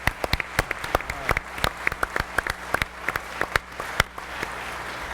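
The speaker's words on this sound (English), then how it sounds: "I'd like to give you a big round of applause for all that" A conference audience claps in a sustained round of applause, dense sharp hand claps from many people filling the room, fairly close and loud, with no talk over it.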